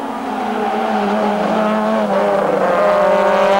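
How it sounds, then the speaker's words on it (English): Loud, sustained high-pitched squeal of touring car tyres under a roaring engine at the Kyalami circuit in 1997, holding steady for several seconds close by. "You can hear those tyres are squealing."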